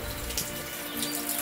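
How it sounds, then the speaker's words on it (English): A small freshwater spring near a forest monastery in Serbia trickles in a soft, continuous splashing wash, close and fairly quiet, with no voices. "Little fresh water spring as well."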